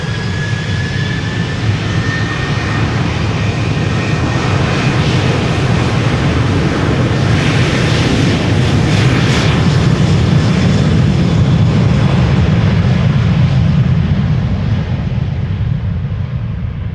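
An airliner roars down Polderbaan runway 36L at Amsterdam Schiphol on takeoff, a loud, sustained broadband jet rumble close by that swells mid-clip and holds steady without any talk.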